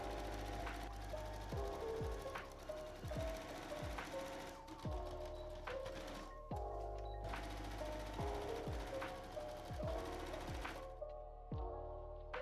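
A sewing machine stitches around a fabric casing for a puff sleeve dress made from a sheet, running in repeated bursts of rapid mechanical chatter with short pauses between runs, close and fairly quiet.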